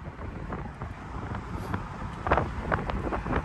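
Wind rushes and buffets past the microphone in a moving convertible Camaro SS, a continuous rumbling roar that swells louder toward the end, with no talking.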